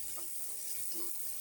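Hot spiced oil tempering (phodni) sizzles steadily in a pan over a high gas flame while cooking dhaba-style dal palak, a continuous crackling hiss heard close up without talk.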